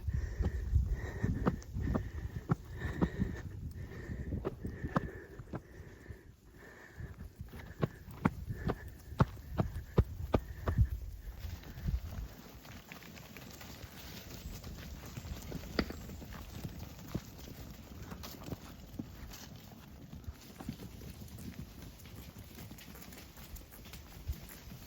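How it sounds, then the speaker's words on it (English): Flock of ewes coming in, many hooves clattering on hard ground in a busy irregular patter that thins out later, moderately close against faint background noise. "So yeah, the ewes are coming in now."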